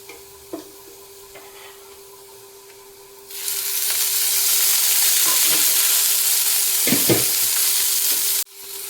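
Ridge gourd, tomato and mint for chutney start frying in oil: after quiet clinks, a loud steady sizzle bursts in and holds for several seconds, with a couple of stirring scrapes before it cuts off.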